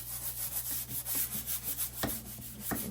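A scrub brush rubs baking soda and soap around a kitchen sink, a steady close bristly scouring with a few sharper knocks and scrapes, no talking.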